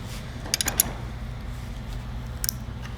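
An OEM NOS switch cutting tool bites into the plastic of a 1969 Pontiac GTO Convertible, giving a few short crackling clicks and creaks close up over a low steady hum, with quiet gaps between them.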